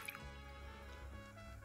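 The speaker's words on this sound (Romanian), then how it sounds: "Și turnăm apă cât să cuprindă ouăle." Water poured into a cooking pot holding eggs and red beetroot, a steady running, filling sound throughout with a brief drip at the start, close and unaccompanied by talk.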